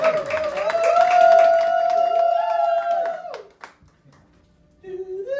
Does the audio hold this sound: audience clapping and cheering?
yes